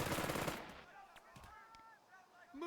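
A dense burst of machine-gun fire rattles out at the start in the Burden of Command World War II tactics game, then gives way to quieter scattered sounds and faint calls.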